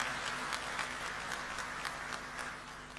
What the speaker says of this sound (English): Let us give Saudi Arabia a round of applause